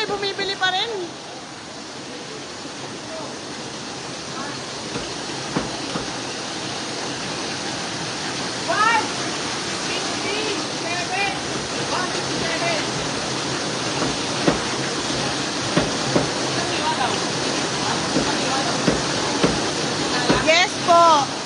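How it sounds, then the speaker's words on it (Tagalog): Floodwater rushes through a Quezon City street during Super Typhoon Carina, a loud, constant roaring wash with occasional splashes and faint voices. "Sa San Jose po napupunta yung tubig galing dito sa taas."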